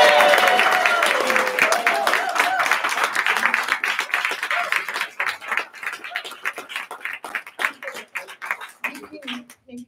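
An audience at a filk convention's closing ceremony gives a dense round of clapping that thins out and fades, with voices audible over the opening.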